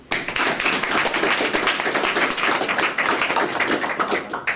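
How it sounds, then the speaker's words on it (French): Audience applause welcoming guests at a French conference, a lively burst of many hands clapping close and loud, starting abruptly and staying steady, with no speech over it. "Vous pouvez les applaudir."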